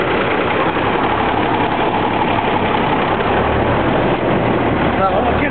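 The engine of a 1952 White tow truck runs steadily in a loud, continuous low rumble, with no pauses or breaks.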